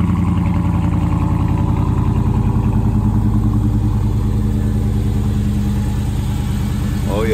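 A Hemi V8 car engine idles loud and close at a street car meet, a steady low rumble with a lumpy rhythmic pulse that holds throughout, with a brief rise near the end.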